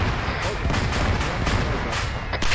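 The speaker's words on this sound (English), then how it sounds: "I think those are fireworks." Distant fireworks crackling and booming during outdoor squad training, a dense run of rumbling bursts heard loud and continuous under people talking.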